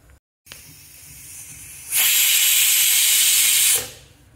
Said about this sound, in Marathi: एक शिट्टी झालेली